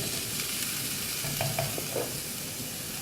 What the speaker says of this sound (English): once the onions have become semi-translucent, we don't want to brown the onion.